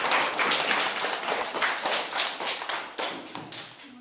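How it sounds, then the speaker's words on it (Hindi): Children in a village school clap for a classmate, a quick run of sharp, uneven taps and claps that keeps up steadily for several seconds, fairly close and fairly light, with no talking over it. "सबको ताली मारो उनके लिए एक बार।"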